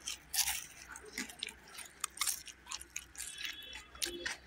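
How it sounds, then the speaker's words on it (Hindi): Someone bites into crunchy fried mushroom pakoda and chews it, giving repeated close crisp crunches at an uneven rhythm with no talking. "इसकी आवाज़ से तो आप समझ ही गए होंगे कि ये पकौड़ा जितना खाने में टेस्टी है उतना ही ये कुरकुरा है"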